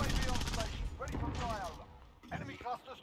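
Sniper rifle shots ring out in a Call of Duty Modern Warfare match on the Damascus map, sharp reports breaking through at the start and again near the end, with someone talking over much of the gunfire.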